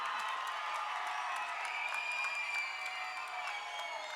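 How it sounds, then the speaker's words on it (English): An audience at a college commencement in Los Angeles applauds and cheers steadily, a dense wash of clapping that holds for several seconds at moderate distance, with scattered whoops. "give them a big round of applause"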